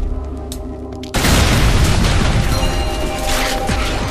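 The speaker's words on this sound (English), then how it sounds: "They are the obligatory exploding barrel of this game." A barrel blowing up in the Shadows of the Damned video game: after a quiet stretch, a sudden loud, deep boom erupts and rolls on as a long, dense rumble of debris and crackling.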